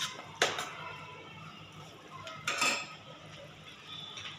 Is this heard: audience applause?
no